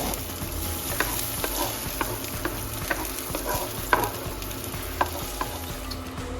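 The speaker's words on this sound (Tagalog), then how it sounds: "Let's put the olive oil in the pan. Then let's add the onion and the spring onion." Chopped onion and spring onion frying in olive oil in a pan give a steady close sizzle, broken by sharp clicks and scrapes as they are stirred, with no talking.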